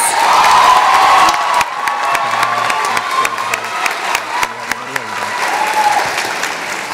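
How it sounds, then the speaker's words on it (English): A crowd at a graduation celebration breaks into loud, sustained applause for a dental therapy graduate, a dense wash of clapping with scattered cheers and whoops, easing slightly after the first seconds while a voice speaks over it. "Please give her one more round of applause."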